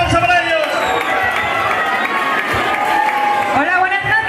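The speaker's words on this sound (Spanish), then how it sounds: "¡Fuerte aplauso para ellos!" A live gala audience bursts into loud, sustained cheering, whistling and applause to welcome the band on stage, with a dense crowd roar and shouts continuing throughout.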